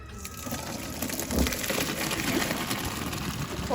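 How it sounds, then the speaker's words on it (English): A steady rushing gush of water and pasta pours through a strainer and splashes into a metal sink, a continuous wet hiss with a few heavier splashes. "I have my strainer here, and I simply pour"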